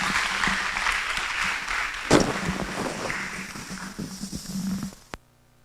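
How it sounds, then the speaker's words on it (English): Audience applause after a graduation speech at a senior school ceremony, steady clapping from a crowd that tapers off with a few scattered claps and a final thud before cutting to silence. "Guys, just one more round of applause, please."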